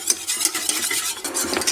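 A thickening cornstarch mixture is stirred in a pan over lowered heat, with close, quick scraping and knocking of a utensil against the pan in an uneven rhythm, with no voices.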